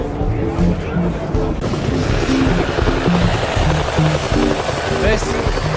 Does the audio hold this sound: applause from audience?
no